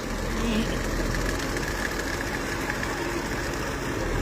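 A tractor engine drones steadily and loudly at close range while running a rotavator in a flooded paddy field, a continuous low mechanical rumble with no talking.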